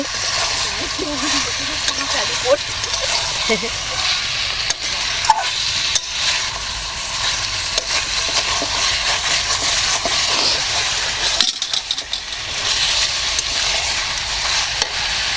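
Food being stirred and fried in ghee at a New Year picnic cookout, a steady close sizzle with scraping stirs throughout, voices chatting over it.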